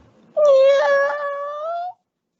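A single drawn-out meow, loud and close, rises and then holds as a long wavering cat cry for about a second and a half before stopping cleanly, with silence on either side.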